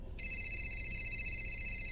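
A telephone ringing: a steady electronic ring tone starts after a brief quiet moment and continues unbroken, fairly loud and close, with no talking.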